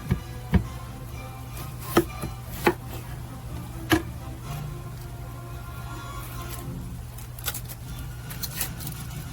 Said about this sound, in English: Now we need to slice up this big onion.